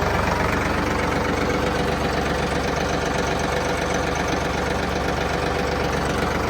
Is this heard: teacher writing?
no